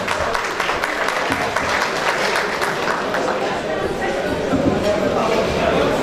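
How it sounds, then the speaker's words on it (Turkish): A seated audience at an association gathering applauds to welcome the association president to the stage, a sustained, even wash of clapping mixed with murmuring voices throughout. "Alkışlarınızla efendim"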